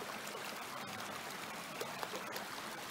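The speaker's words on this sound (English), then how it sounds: "we're camping right next to this beautiful little stream." Small snowmelt creek, Ireland Creek in Yosemite, running past a backcountry campsite: steady close broadband gurgling and trickling water with no pauses and no voices.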